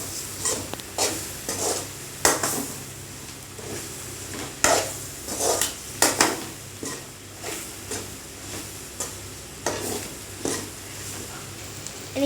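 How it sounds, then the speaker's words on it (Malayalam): Chicken curry masala with curry leaves being stirred in a pan, steady scraping and clinking strokes in an irregular rhythm over a soft constant sizzle, close and moderately loud. "നല്ലോണം ഇതൊന്ന് മിക്സ് ചെയ്യണം. മസാല ഇങ്ങനെ നന്നായിട്ട് ഒന്ന് പിടിക്കാനുണ്ട്. നന്നായിട്ട് ഇളക്കി കൊടുക്കുകയാണ്."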